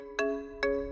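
A phone ringtone for an incoming call in a Tamil TV drama, two short identical bright electronic rings about half a second apart, clear and close, with no talk over them.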